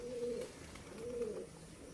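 Pigeons from an adult pair of solid black Nazra green pigeons coo in two low, rolling bursts, moderately close and fairly faint, with no talk over them.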